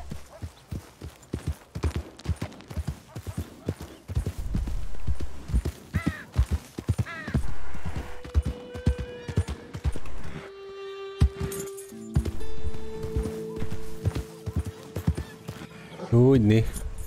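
Horse hooves clip-clopping in Red Dead Redemption roleplay, a rhythmic trot of distinct hoofbeats that stops partway through, with a horse whinny near the end and someone talking throughout.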